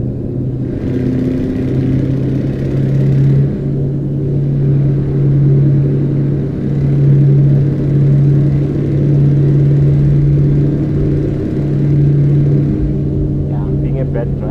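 A steady, droning truck engine in the video game Euro Truck Simulator 2 hums loudly throughout, with slight shifts in pitch, under a voice speaking.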